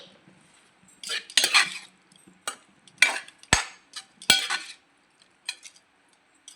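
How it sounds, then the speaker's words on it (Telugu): A spoon stirs turmeric into a pot of prawn curry, giving several separate bursts of scraping and clinking against the metal pot, close and fairly loud, with quiet pauses between the strokes. "ఇప్పుడు వచ్చేసి కొంచెం పసుపు ఒకసారి తిప్పుకోవాలి"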